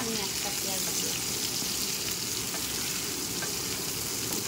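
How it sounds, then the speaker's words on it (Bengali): Chopped onion frying in a pan of oil for a rohu fish curry, a steady, dense sizzle that fills the clip evenly from start to finish, with faint talk underneath. "এবার আমি দিয়ে দেবো পেঁয়াজগুলি"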